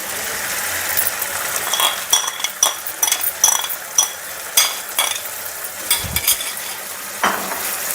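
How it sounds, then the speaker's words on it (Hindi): Mustard greens saag tip into a pan of cooked tomato and onion for Punjabi sarson ka saag, bringing a string of sharp metal clinks and scraping stirs over a low sizzle, close and without talk. "साग को पहले मैंने एक बर्तन में निकाल लिया था, अब इसको इसमें डाल देंगे।"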